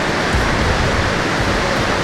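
Steady, dense roar of a waterfall near the Chief Joseph Scenic Byway, loud and close, a constant broadband wash with no pauses and no voices.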